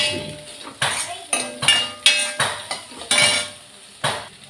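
Okra (vendakkai) sauté scraped and transferred into a vessel for puli kulambu, with about eight sharp metal clinks and scrapes of a utensil against the pan, close and fairly loud, spaced unevenly.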